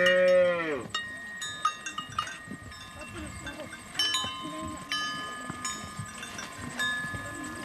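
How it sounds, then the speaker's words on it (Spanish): Cattle of the Mursi people gathered in an evening corral in Ethiopia, with a loud close moo at the start, then softer lowing, bells clanking and scattered knocks against a quiet background. "Su ganado también está ya en el corral."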